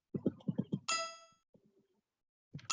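A short bright collect ding from a Scratch coding game rings out after a few quick percussive taps, decaying briefly, followed by faint tones and another pair of taps.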